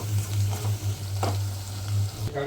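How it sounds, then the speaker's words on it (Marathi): Besan and onion roasting in a pan for misal, a soft steady sizzle close by with a low hum underneath and a brief scrape of stirring near the end, no talking. "कांदा चांगला भाजल्यावर त्यात आपण बेसन टाकून घेऊया. ते व्यवस्थित भाजून घ्यायचं."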